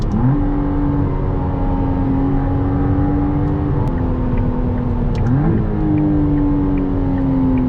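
A McLaren Artura supercar engine drones steadily and climbs in pitch, shifting smoothly through gears as it accelerates, loud and close throughout.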